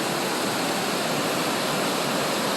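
Waterfall near Horse Lake, a steady broadband rush of falling water over rocks, loud and unbroken from start to finish with no voices.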